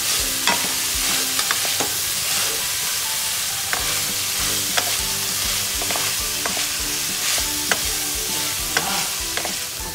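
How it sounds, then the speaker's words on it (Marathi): Mixed vegetables with cauliflower stir-fried in a hot pan: a continuous loud sizzle with frequent sharp scrapes and taps of a spatula keeping an irregular rhythm throughout. "आपल्या या भाज्या मस्त अशा परतून झाल्यात"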